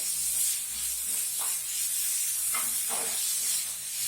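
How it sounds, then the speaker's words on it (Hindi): Egg roll filling, with cabbage cut into long strips, frying in a pan over a high flame: a steady broad hiss and sizzle runs throughout at an even loudness, with a few brief brighter crackles. "थोड़ा हाई फ्लेम में हम इसे हल्के से भून लेंगे"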